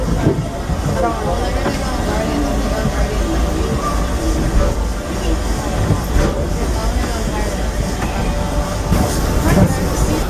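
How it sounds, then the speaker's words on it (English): Disneyland Railroad train rolling along its track, a loud steady rumble with clattering wheels and metallic rattles heard from aboard, continuous throughout. "Welcome aboard the Disneyland Railroad."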